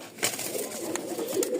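A pigeon lifted out of its cage in a loft of Rajshahi high-flying pigeons, with a few short coos and soft scuffling close by.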